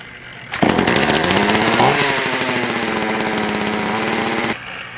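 An Echo CS400 chainsaw fires up and runs after a no-start repair, a sudden loud two-stroke engine snarl that settles into a steady buzzing idle for a few seconds before cutting off.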